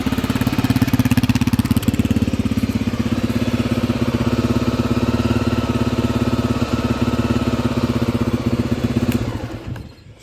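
A vintage 1984 Honda XL350R motorcycle, just started after years of sitting, idles with a steady close thumping single-cylinder beat for about nine seconds before the engine dies and fades out.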